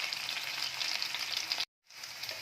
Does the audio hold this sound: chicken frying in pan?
yes